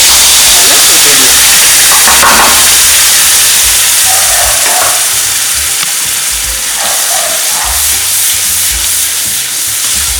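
Chili powder frying in hot oil for a fish fry gravy, a loud, close, continuous hiss and sizzle throughout with brief stirring or clinking sounds in the pan.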